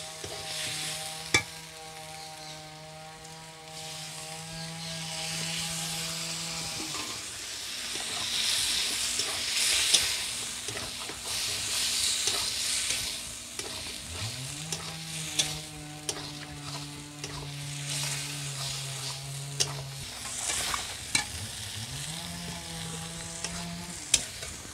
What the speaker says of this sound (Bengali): ডাল দিয়ে ভালো করে নেড়েচেড়ে নিলাম।